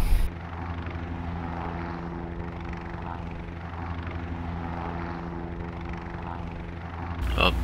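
A helicopter drones in a video game with a steady, loud rotor and engine hum that holds throughout, opening and ending with brief louder bursts.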